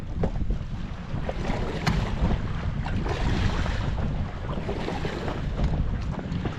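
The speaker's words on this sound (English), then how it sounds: "Pretty breezy." Steady wind buffets a small boat drifting on a lake in winter, a continuous close rumble of gusts and microphone wind noise with faint water movement, no voices.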